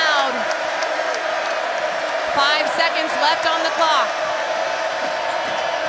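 A basketball arena crowd at Reed Arena roars steadily as the game nears its end, a loud, sustained wash of cheering and whoops under a commentator's voice, with squeaking shoes on the court.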